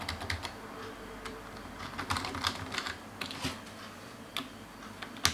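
Rapid clicking of keys being typed on a computer keyboard, irregular taps over a faint background hum, no voices.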